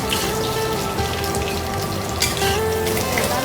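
Boiling water pours into a cooking pot in a home kitchen, a loud, continuous splashing and gurgling stream with a few brighter bursts, close and steady throughout.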